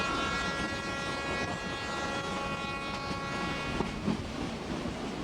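A slow narrow-gauge train rolls through the Urubamba river valley in Peru, giving a steady, loud rumble with a sustained horn-like tone and faint wheel clatter, with no voices.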